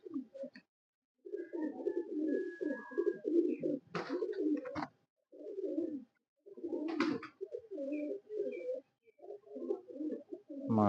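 Champion pigeons of a prized breeding line give repeated soft, throaty coos in short bursts with brief pauses between them, close and fairly quiet.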